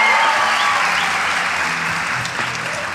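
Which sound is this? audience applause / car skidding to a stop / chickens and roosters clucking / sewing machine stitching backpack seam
audience applause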